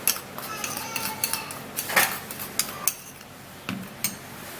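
A spoon clinks and scrapes against a bowl while mixing ingredients, with irregular close taps and rattles and faint background speech.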